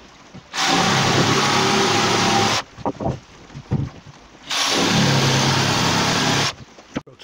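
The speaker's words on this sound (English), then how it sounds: "I'm going to cut a couple of pieces of this out, join them together. I'm going to use this chunky jigsaw blade." A jigsaw with a chunky blade cutting wood for a staircase bullnose repair, making two loud, sustained buzzing runs of about two seconds each, separated by a short break of clattering and handling noise.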